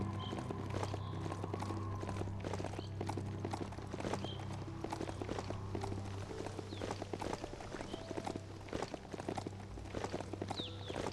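Hoofsteps of a riding goat mount in the game Biomutant clop steadily in a continuous rhythm under a low droning music bed, fairly loud and close throughout.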